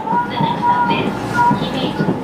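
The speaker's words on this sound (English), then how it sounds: "We're on the train, finally on our way to meet Joe." Rumble of a moving train carriage during a ride, steady low rolling noise with faint higher tones drifting in and out, continuous throughout with some speech-like sound beneath.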